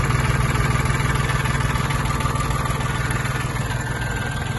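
A Mitsubishi MT-20 mini tractor's small diesel engine idles steadily with a smooth, even low rumble and faint mechanical ticking, continuous and unchanging throughout.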